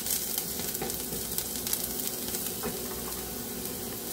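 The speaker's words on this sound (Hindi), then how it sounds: "प्याज को अच्छे से पकाएंगे जब तक कि हल्का सा कलर चेंज नहीं करने लगता।" Onions fry in a pan for a dish of brinjal and spinach, giving a steady, close crackling sizzle with occasional stirring scrapes. No one talks over it.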